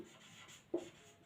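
Writing on a board in a lecture setting gives a faint, brief scratchy stroke, heard once against quiet room tone.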